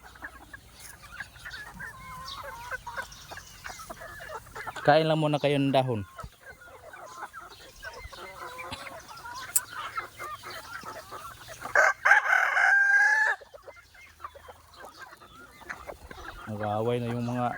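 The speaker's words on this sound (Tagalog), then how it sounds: "nagante-ante na yung mga manok natin" Chickens clucking near, with several loud rooster crows bursting out at intervals while a person talks over the flock.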